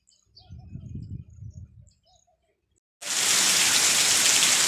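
Faint birdsong and a soft rumble give way to near silence, then heavy torrential rain bursts in abruptly and keeps pouring as a loud, steady roar; no speech.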